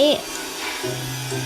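A steady low electric buzz and machine hum from a motorcycle repair shop fill the background, with a brief voice fragment at the start.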